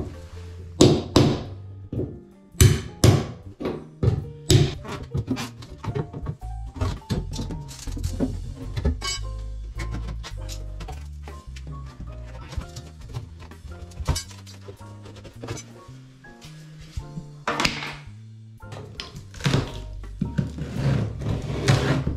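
Baseboard pieces are pried off during a bathroom demolition, giving a loud, irregular string of close thunks, knocks and sharp clinks, with cracking snaps between quieter scraping moments.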